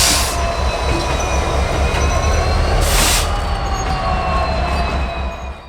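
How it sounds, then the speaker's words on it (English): Norfolk Southern locomotive NS 7124 rolls past at a rail-side location in Bryan, Ohio, with a loud, steady rumble, squealing wheels and rhythmic clatter of cars, holding close then easing slightly toward the end. "With a fresh crew aboard, NS 7124 heads toward Bryan Plastics Processing."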